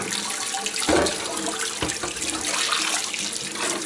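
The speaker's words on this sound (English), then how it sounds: "I run it under hot water." Hot tap water runs steadily over a cast iron pan in a sink, a loud continuous splashing with brief surges.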